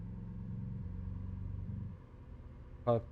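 Mercedes-Benz S500L in Euro Truck Simulator 2 with its engine pulling under throttle, a steady low hum that rises briefly then fades, ending with a short sharp click.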